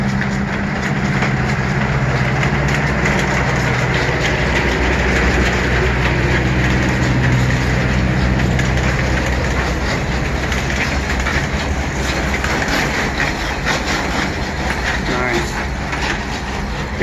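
A small railroad train rolls through a park in Los Angeles, its steady rumble and clattering wheels loud and close for the whole stretch, with voices talking over it.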